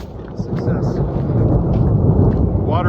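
Steady rain falls across a mountain setting at Colcord Mountain Estates, a dense broadband wash with low rumbling that may be distant thunder, continuous and fairly loud throughout.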